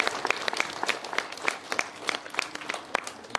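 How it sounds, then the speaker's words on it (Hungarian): Scattered applause from a modest audience at a school graduation and year-end ceremony, with distinct individual hand claps standing out in an uneven rhythm, fairly quiet and without talk. "és nagy tapsot."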